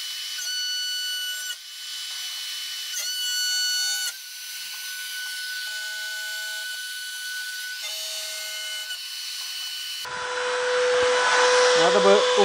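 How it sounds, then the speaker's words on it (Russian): A CNC router fitted with a 90-degree conical cutter milling a wooden spice and tea box, giving a steady whining tone with shifting pitches that stops and restarts, then turns into a broader, harsher cutting noise near the end. "Теперь буду ставить вот такую конусную фрезу на 90 градусов."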